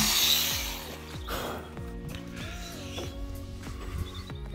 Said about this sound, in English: we'll drill that down again at the top